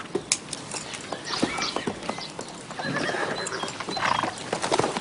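A horse's hooves clip-clop in an uneven, irregular rhythm nearby, with a neigh rising toward the end, set against outdoor background noise.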